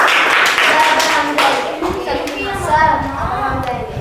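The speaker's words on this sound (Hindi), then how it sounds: "रूपा कुमारी के लिए एक जोरदार ताली होना चाहिए" In a classroom during a Hindi dictation lesson, schoolchildren burst into loud, dense applause for a student named Rupa Kumari, with voices and chatter mixed into the clapping.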